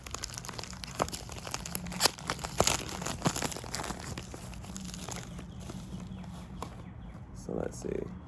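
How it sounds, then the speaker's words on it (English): Zippo lighter packaging being opened by hand, with close crinkling and tearing rustles in scattered bursts and a few sharper crackles, quiet gaps between them. "we're gonna do an unboxing for the ASMR people"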